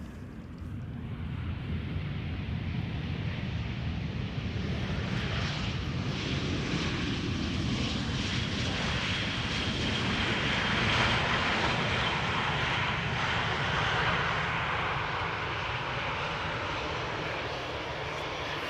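A fixed-wing aircraft flies near Amsterdam Schiphol Airport, a loud, steady roaring engine drone that swells slightly as it passes overhead, close and continuous with no voices.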